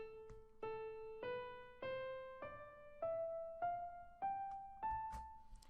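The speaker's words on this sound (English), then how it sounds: "So this is A natural minor" An A natural minor scale rises one note at a time in nine even, sustained tones on a pitched instrument, each note clearly struck and ringing alone without any talk.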